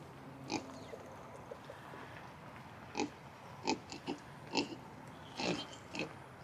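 Pigs lying in a sleeping pile on a homestead give a few quiet grunts and short oinks in separate bursts over a soft, low background, fairly faint and close.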